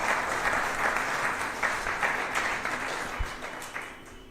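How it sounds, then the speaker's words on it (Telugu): An audience claps steadily during a religious discourse, a dense, even wash of applause that gradually softens over a few seconds. "చప్పట్లు కొట్టండి, ఏం పర్వాలేదు"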